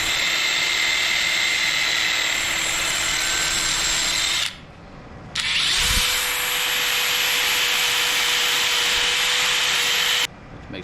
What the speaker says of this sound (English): Make sure the unions are nice and polished, all brand new polishing.